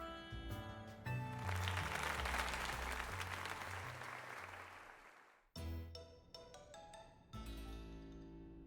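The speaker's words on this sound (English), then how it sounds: "let us give another heartfelt round of applause to Pokemon." A burst of crowd applause in a Pokémon Legends: Z-A video game swells and sustains for several seconds, then cuts off into bright electronic game music chimes.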